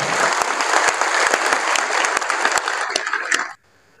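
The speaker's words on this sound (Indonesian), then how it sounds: "Mari kita sambut dengan tepuk tangan yang paling meriah untuk Bapak Ahmad Muzani." Loud audience applause at a Gerindra party gathering, dense and sustained as the crowd welcomes a speaker to the stage, then cutting off abruptly near the end.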